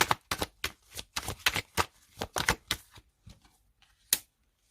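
Tarot cards being handled and laid down on a table, a series of sharp close slaps and snaps in an irregular rhythm, fading to a few softer taps and one last crisp snap.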